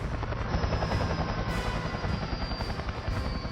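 Huey helicopter from the early Vietnam War era, its loud, steady rotor thump and engine roar filling the whole stretch without any voices.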